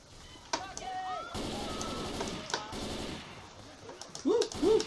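Gunfire from the video game Left 4 Dead 2 rings out in several loud, sharp bursts, with a voice briefly heard near the end.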